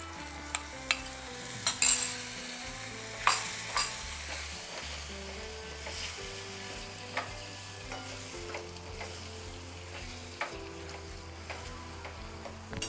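Desi chickpeas tipped into hot oil tempered with asafoetida, making a steady sizzle and frying hiss with stirring scrapes and occasional utensil knocks against the pan, close and continuous for the whole stretch.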